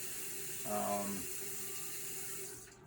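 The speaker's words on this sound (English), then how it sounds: "we've ran our water for a little bit of time just to make sure everything works" Water runs from a newly installed bathroom sink faucet in a steady, even hiss that continues throughout, with a short tonal squeak early on as the flow settles.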